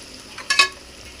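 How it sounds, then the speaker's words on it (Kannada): A brief, bright sizzle and stir in a pan as ingredients fry with salt and turmeric for home-made biryani, a single quick scraping burst against quiet kitchen background. "ಎರಡು ನೀಟಾಗಿ ಫ್ರೈ ಮಾಡಬೇಕು."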